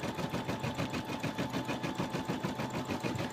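A home embroidery machine stitching a letter, its needle hammering out a fast, even mechanical rhythm that hums steadily and fairly quietly without pause or speech.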